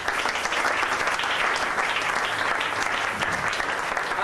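A church congregation claps loudly and steadily, a dense unbroken wave of applause with crowd noise and no voices standing out.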